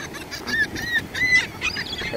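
Seagulls on a beach call repeatedly with loud, nasal honking squawks, several overlapping cries in an irregular rhythm, close by over a low background of wind and surf.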